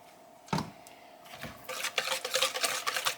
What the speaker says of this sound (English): And we're just combining that, mixing it all together.